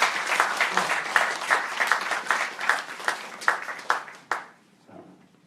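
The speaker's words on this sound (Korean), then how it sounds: "박수 한번 다시 부탁드립니다." An audience at a public forum on lowering the voting age to 18 breaks into a lively round of close, crisp clapping that keeps going for several seconds, then quickly dies away into near silence.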